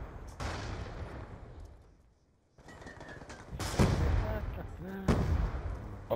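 A grenade goes off in a first-person shooter match on the Slums map of Black Ops 2, one loud burst among scattered gunfire, with players talking over the action.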